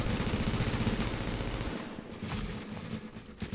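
Rapid automatic gunfire in a video game rattles loudly in dense bursts, briefly dropping off midway before more shots resume.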